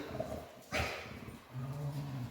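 A mother dog gives a single short bark up close, followed by a low whimpering whine.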